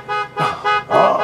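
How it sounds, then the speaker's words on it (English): A car horn honks four times in quick succession, loud and close, each blast short and sharp with brief gaps between. "can you please stop honking your horn?"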